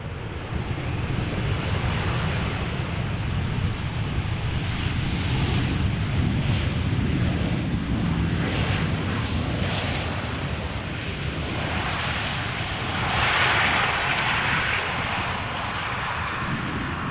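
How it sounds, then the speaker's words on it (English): Transavia Boeing 737 airliner landing at Amsterdam Schiphol Airport in gusty crosswind, a continuous loud broadband engine roar with heavy wind rumble, steady throughout and swelling slightly near the end. "Let's have a look at the landing of the Transavia 737."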